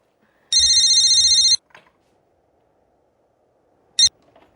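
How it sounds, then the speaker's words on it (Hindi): A loud electronic telephone ring sounds in one continuous burst, then after a pause a single short ring cuts off abruptly. "मैं फोन सुनती हूँ जरा।"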